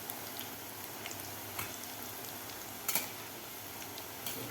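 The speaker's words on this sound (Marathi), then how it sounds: "कडकडीत तेलात आपल्याला हे पीठ थोडं थोडंसं हातानं घालून घ्यायचं आहे आणि व्यवस्थित आपल्याला हे तळून घ्यायचं आहे" Gram flour batter dropped by hand into very hot oil and frying for vada pav chutney, a soft, quiet sizzle with a few faint crackles and light taps, close by and without any talking.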